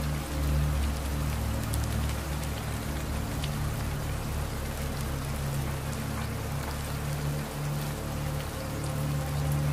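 Steady rain pours down in an animated Bengali village scene, a dense, even hiss of drops on the ground that carries on unbroken at moderate loudness, with no voices.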